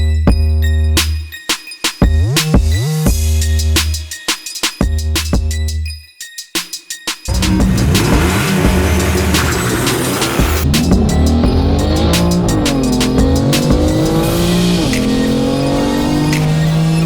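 A BMW M4 at Stage 2 tune and an old Moskvich race hard, engines screaming up through gears with brief cut-outs and shifts, then long sustained tire squeals and skidding over a loud, continuous engine roar.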